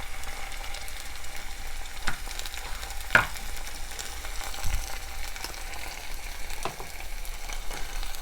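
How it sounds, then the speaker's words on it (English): Tomato sauce poured into a pot of sofrito for habichuelas, a steady loud sizzle and crackle of frying, with a few sharp clicks of a spoon stirring against the pot. "I'm going to add that jar of tomato sauce."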